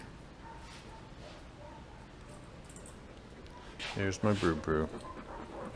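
A dog barks outdoors at a delivery truck pulling up, a quick burst of several loud barks arriving a few seconds in over a low background hum, with brief speech nearby.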